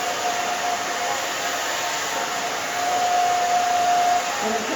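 A hair dryer blows steadily on a woman's freshly cut hair during volume styling, a loud continuous whoosh with a faint tonal hum and no speech.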